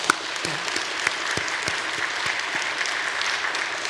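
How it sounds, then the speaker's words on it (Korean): Congregation applauding in a church during an evening service, dense clapping from many hands at even volume with a few sharper individual claps standing out. "우리 박수 한번 쳐줍시다."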